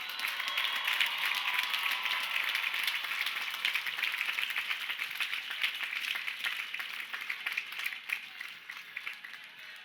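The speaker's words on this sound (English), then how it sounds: "give them a round of applause for being on this journey with you" An audience at the 2022 Lehman College commencement ceremony applauds, producing sustained, dense clapping that fills the space and fades slightly toward the end.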